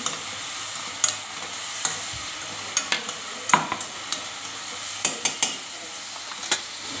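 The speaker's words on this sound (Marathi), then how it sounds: "मीठ टाकायचे, छान परतू द्यायचं याला" Vegetables sautéing with turmeric and salt in a pan: a steady close sizzle with scattered sharp scrapes and clicks of a spoon stirring against the pan, no talking.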